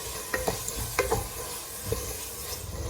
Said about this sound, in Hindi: अब टमाटर को भी पका लेंगे हम और इस तरीके से लगातार चलाते रहेंगे चम्मच